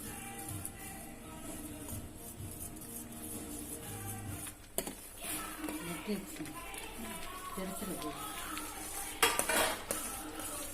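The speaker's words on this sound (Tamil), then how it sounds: "இப்போ மாவை கொட்டி கொஞ்சம் கொஞ்சமாக போட்டு கிண்டுவோம்" Pori arisi flour, ground with cardamom, is stirred bit by bit into melted jaggery in a pot over a low flame. A spoon scrapes and clinks against the pot in an irregular rhythm, close and fairly quiet, with a faint voice murmuring behind it.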